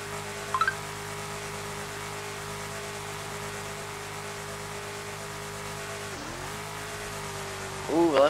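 Drag race cars in the FiveM game, a nitrous car against a ProCharger car, hold a steady droning engine tone that dips briefly and then swells with revving near the end.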